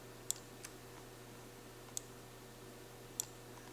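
A computer mouse clicks sharply three or four times with long gaps between, faint and close over a steady low hum, while a 3D skybox is edited.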